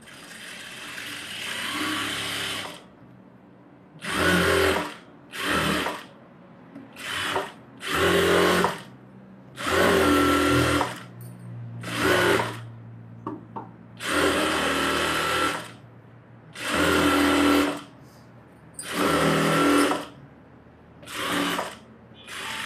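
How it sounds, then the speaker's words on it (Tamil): A sewing machine stitches around a blouse lining in a series of loud, close bursts of rapid whirring, each a second or two long, separated by short pauses with a faint low hum. "அதே மாதிரி சுற்றி தையல் போட்டுருணும்."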